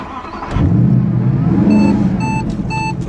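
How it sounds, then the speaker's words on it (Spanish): A 2014 Mercedes SLS AMG Black Series on the Willow Springs race track, its engine surging into a loud, close, throaty rev after a brief quiet start, with a few high electronic beeps sounding over the engine near the end. "Ahí tienen el fabuloso sonido del motor."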